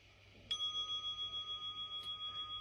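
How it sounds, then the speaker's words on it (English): A bell rings during a yoga breathing practice: one clear, bright strike that sustains with a steady, pulsing ring, followed by a softer second strike near the end, with no voices. "And that bell allows us to release our control of the breath"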